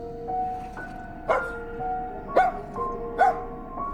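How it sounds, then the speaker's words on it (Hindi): A dog barks as a sound effect in a horror story, with three short, sharp barks spaced about a second apart over a steady, eerie tonal drone. "कुत्ता आईने की ओर भौंकता रहा"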